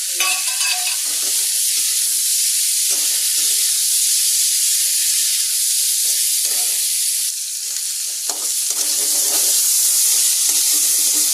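Chopped onions fry in a pan with a constant bright sizzle, broken by repeated scraping and clacking of a stirring utensil up close, without speech.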